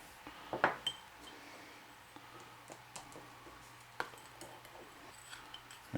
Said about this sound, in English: And just stir this up and make a paste out of it.